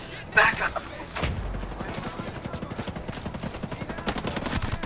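Rapid bursts of gunfire from a shooter video game rattle continuously after a sharp opening blast, dense and fairly close, with game sounds layered throughout.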